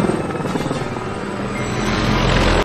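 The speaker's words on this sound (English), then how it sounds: "There's an AH-6 little bird there." AH-6 Little Bird helicopter flying in the DCS World flight simulator, a loud, steady rotor and engine drone that holds throughout and ends in a brief sharp break.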